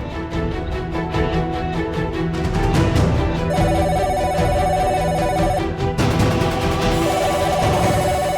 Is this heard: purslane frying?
no